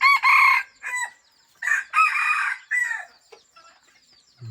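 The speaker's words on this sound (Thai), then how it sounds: "เริ่มมาฟังเสียงขั้นกัน" A breeder rooster crowing close and loud, several long rising-and-falling calls separated by short pauses, with softer clucks and rustling toward the end.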